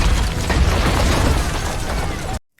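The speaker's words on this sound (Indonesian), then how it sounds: "Arthur meledakkan tembok yang menghadap ke sisi lautan" A loud explosion blows out a seaside wall in an action film, a dense, roaring blast of debris that fills the whole moment before cutting off abruptly to silence.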